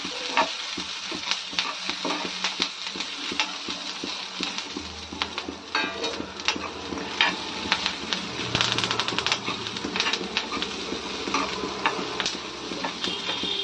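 Tomatoes stirred and fried in a pan, a continuous sizzle overlaid by rapid, clattering spatula strokes against the metal, near and lively, with no one speaking.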